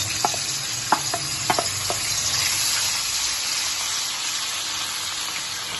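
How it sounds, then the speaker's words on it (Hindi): Mashed garlic and onion sizzle in desi ghee as a broad, steady frying hiss, with a few sharp spoon clinks against the pot early on. "अब मैं इस मैश किए हुए लहसुन को और प्याज को ना ये देसी घी में डाल दूंगी।"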